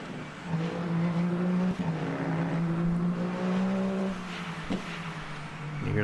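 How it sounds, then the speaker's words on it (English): Race car in a racing video game, a loud sustained engine drone that dips and shifts pitch, with brief sharp pops at downshifts, heard alone without talk. "You hear that little fart when he downshifts."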